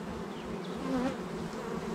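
Honey bees buzz steadily around their hive in a close, continuous drone, with a few brief higher whines from individual bees passing near.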